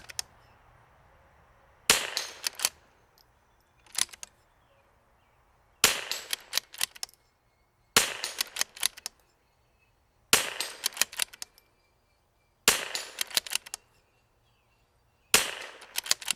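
Seven sharp rimfire rifle shots from a RimX MCR MOD X, fired with a Voodoo magazine at an outdoor target, crack out about two seconds apart with brief echoes trailing each shot and no talking.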